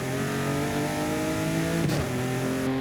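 An automatic car with power shifters, driven in manual mode in the racing game Forza Horizon 5, sends out a steady loud engine drone that dips briefly during a gear shift and then resumes.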